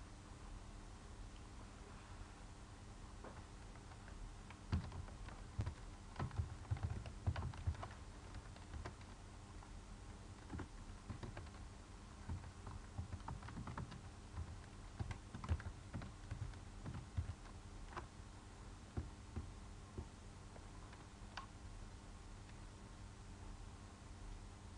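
A computer keyboard is typed on while signing in to a web application. The keystrokes are quiet, steady and irregular, and they stay close and alone throughout.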